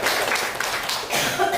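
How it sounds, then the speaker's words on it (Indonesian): Applause from an audience of teachers at a state senior high school, a dense, steady wash of clapping from start to end with no gaps. "Sekali lagi tepuk tangan untuk Bapak Ibu sekalian"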